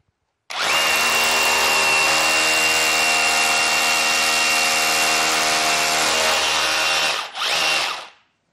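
An ABH 18 Compact cordless hammer drill whines loudly and steadily as it bores into wood for several seconds, dips briefly, then spins down and stops.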